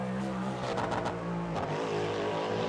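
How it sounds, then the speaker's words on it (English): A race car engine in the racing game Le Mans Ultimate revs hard and drops back, with a few sharp crackling backfire pops as the throttle lifts, steady and close throughout. "My car sounds nasty on the backfire."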